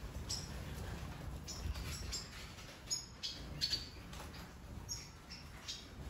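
Siskins kept as birds for sale, a mix of ancestral and dilute mutation adults and chicks, give thin, high chirps and short tweets, scattered and fairly faint, over a steady background hiss.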